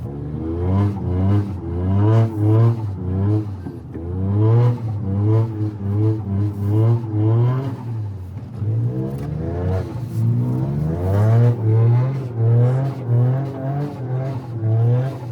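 Toyota GR Yaris with a big turbo accelerating on snow, its engine rising and falling in repeated surges of revving, loud and close throughout with brief dips between pulls.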